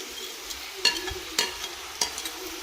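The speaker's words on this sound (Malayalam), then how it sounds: "എല്ലാം ഇട്ടിട്ട് നല്ലോണം ഇളക്കിയിട്ട് നല്ലോണം ഇളക്കുക." Tomato, green chili and curry leaves are stirred into frying country chicken. Three spaced scraping strokes sound over a soft, steady sizzle.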